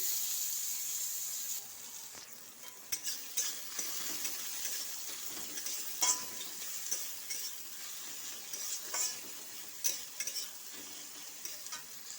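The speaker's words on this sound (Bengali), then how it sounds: "তেল তো গরম হয়ে গেছে বন্ধুরা দিয়ে দিচ্ছি পেঁয়াজ কুচি" Chopped onion frying in hot oil in a pan, giving a steady close sizzle throughout with intermittent scraping and stirring clicks from a spatula, no voices.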